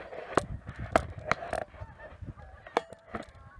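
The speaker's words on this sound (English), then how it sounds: "Hear the geese?" Geese honking in scattered bursts, several sharp calls at irregular intervals, moderately distant and quiet.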